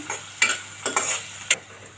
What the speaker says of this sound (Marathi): आला आणि लसूण थोडं हलकं परतून घेऊया